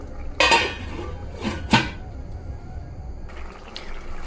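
A metal lid clanks onto a cooking pot of cauliflower chhechki on the stove, two or three close metallic knocks with a faint watery hiss after, no talk.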